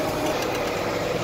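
A John Deere 4450 tractor engine runs steadily at close range, a loud continuous rumbling drone with no voices, briefly heard while hauling hay.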